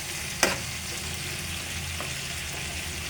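Steady sizzle of fish curry with eggplant, potato and tomato frying in a pan after chili is added, a continuous hiss with a couple of sharp clinks of a utensil, no talking.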